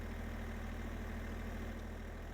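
Tractor engine idling in the Farming Simulator video game, a steady low mechanical drone with a constant rumbling throb, even and unbroken throughout, with no voices.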